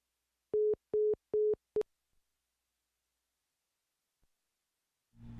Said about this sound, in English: Sorry, Reggie's phone dropped